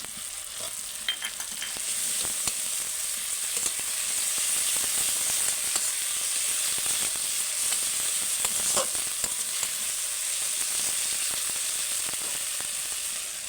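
Ginger paste frying with onion and tomato in a pan makes a continuous, close sizzle, broken by scattered clicks and scrapes of stirring throughout.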